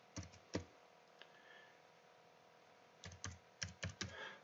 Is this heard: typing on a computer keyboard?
yes